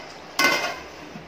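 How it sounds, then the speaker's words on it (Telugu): A metal lid set onto a cooking pot of simmering green chicken curry, a single close, bright clank with a short ringing decay, alone in a quiet kitchen. "ఒక 2 నిమిషాలు పెట్టేద్దాం మూత"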